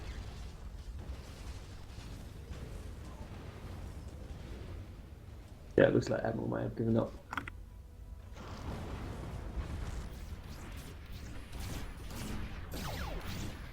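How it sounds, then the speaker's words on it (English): A powerful Uber cannon blast in a real-time strategy video game flattening an enemy army, a loud burst of crashing explosions lasting about two seconds, heard under and between a commentator's ongoing talk. "one Uber cannon leveled that army"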